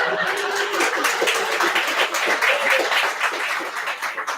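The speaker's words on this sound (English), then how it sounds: "A round of applause after so much research." A live comedy show audience claps and applauds steadily for several seconds, a dense crowd patter that fades slightly at the end, with a few chuckles mixed in.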